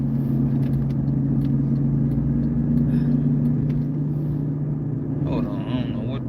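A truck rumbles close by on a Detroit street, a steady, heavy low engine drone that fills the whole stretch without letting up.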